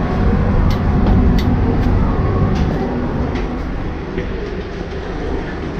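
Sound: Vietnamese train departing Hanoi for Saigon

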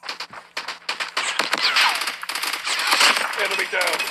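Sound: gunfire in video game Call of Duty Mobile

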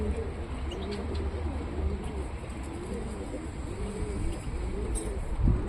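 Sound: pigeon cooing

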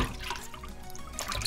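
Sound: washing whole fish in water with key lime juice

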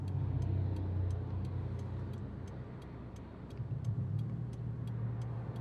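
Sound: cars passing on a busy street

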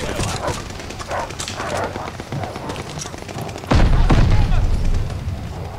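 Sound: dogs barking in the video game Call of Duty Vanguard

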